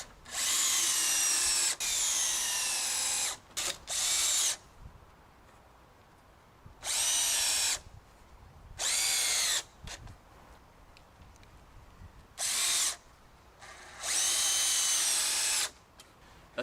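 A power drill drives fasteners into a 2x2 wood piece during wildlife pond building, with repeated loud whirring bursts of a second or two each, separated by quiet pauses, close to the microphone with no talking.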